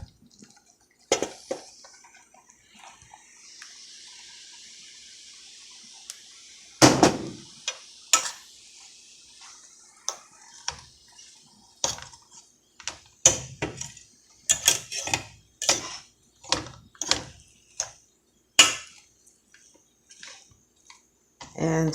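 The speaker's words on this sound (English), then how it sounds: "So now I'm going to add my shrimp." Shrimp are tossed into a pan of fried rice. Quiet sizzling is broken by irregular clanks and scrapes of a utensil against the pan, coming close and loud in uneven bursts.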